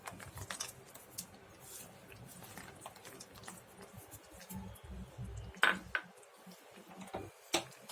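Dry fruits being stirred into double ka meetha in a pan, heard as quiet, scattered clinks and scrapes of a utensil against metal, faint overall with a few sharper knocks toward the end.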